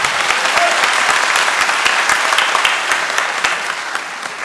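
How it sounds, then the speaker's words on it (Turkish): Enthusiastic applause from a crowd, dense rapid clapping that holds steady and fades slightly toward the end. "Alkışlıyoruz."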